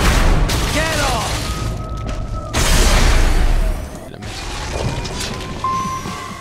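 Rocket launcher explosions in Metal Gear Rising: Revengeance: three heavy booms a couple of seconds apart, each a loud, crashing blast. Voices talk around them amid whistling and chiming game effects.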